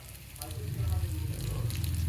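Fish frying in a pan for a home-cooked Indian meal, a steady dense sizzle with low crackling that holds at an even level throughout, with no talk over it.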